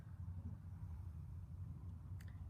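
Faint, distant traffic rumble from cars passing outside, a low and steady wash with no distinct individual passes, heard during quiet stillness.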